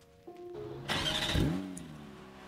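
A Porsche car engine from a Minecraft vehicle addon starts with a steady tonal hum, then surges into a brief loud revving burst that settles back to an idle drone.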